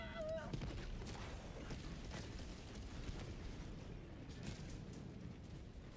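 Helldivers 2 explosion: a dense rolling blast of broadband noise and low rumble that fills the whole stretch, with scattered pops and bursts in the game's combat, loud and continuous without a clean single boom.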